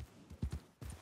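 A few hoof clops from a horse in Red Dead Redemption 2 sound as it slows to a stop, with two short pairs of muffled hoofbeats and no voices.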